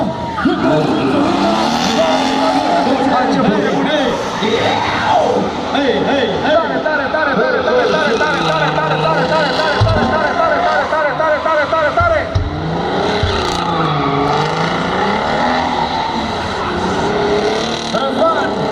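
A loud BMW drift car with a 5-litre V12 revs and screams continuously at a Romexpo drift event, pitch rising and falling as it drifts, with tire squeal mixed in and a commentator's voice underneath.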